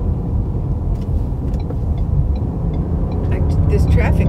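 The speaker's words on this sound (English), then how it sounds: "this traffic is crazy." Busy road traffic with cars passing close by, a steady, loud rumble of engines and tyres that swells and fades continuously throughout.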